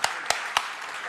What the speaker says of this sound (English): So with big round of applause to yourself that you took time and came here and make this program very